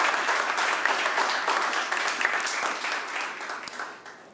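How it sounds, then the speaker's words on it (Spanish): A church congregation applauds loudly and steadily, a dense wash of many hands clapping that holds for several seconds before thinning out toward the end. "Dámosle un aplauso al Señor, muy fuerte."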